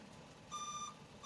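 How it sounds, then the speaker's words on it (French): A truck's reversing alarm beeps twice in quick succession, the high electronic tones fairly faint over low engine rumble. "un camion qui recule"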